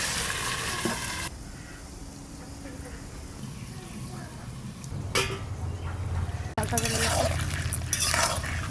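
Duck curry with new potatoes sizzles steadily while being sautéed in a pan, a constant loud frying hiss with occasional stirring scrapes and a brief clatter partway through.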